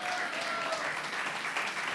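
Steady applause from a church congregation during a worship service, many hands clapping in a loud, even wash that carries the whole two seconds without a voice on top.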